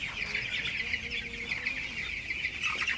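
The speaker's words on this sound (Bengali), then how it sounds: "রাত 12টার সময় ব্রয়লার মুরগিকে পানি দিয়ে দিলাম" Broiler chickens in a poultry shed at midnight, given water during a hot spell, clucking and murmuring steadily as a flock, close and continuous, with no talk.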